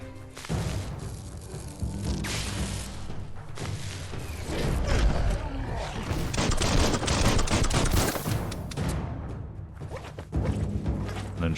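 Gunfire in the video game Biomutant played on PS5, dense rapid bursts of shots and booms with clattering impacts, loud and continuous throughout with brief lulls.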